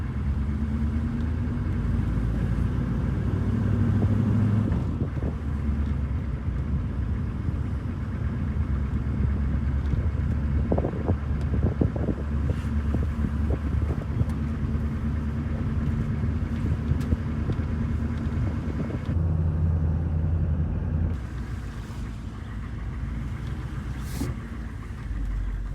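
A diesel truck engine while driving, a steady low rumble with a constant drone that shifts slightly in pitch and briefly lightens near the end, close and uninterrupted.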